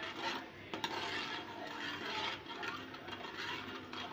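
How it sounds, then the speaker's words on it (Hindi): Masala and water for Indian fish pulao being stirred in a pot, a steady close scraping and swishing with a few small knocks, continuous over several seconds. "पानी डालने के बाद हम इसको एक बार अच्छे से मिक्स कर देंगे"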